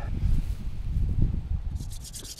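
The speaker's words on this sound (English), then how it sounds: "The hand drill method is the most primitive form of fire making." A wooden spindle is spun by hand against a fireboard for a primitive hand drill fire, giving a close, continuous dry rubbing and sanding rasp that surges in rhythmic strokes.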